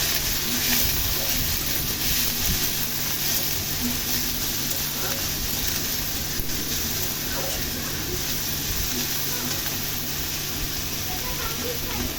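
Prawns fry in a pan with dried chillies, a continuous dense sizzle of oil heard up close at steady volume for the whole stretch, with faint tapping underneath.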